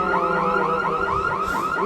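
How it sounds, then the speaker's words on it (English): A car alarm blares in the horror video game Liminal City, a loud, close siren sweeping up and down in rapid repeating whoops with no pause. "I have approached the car and appeared to have activated some form of alarm."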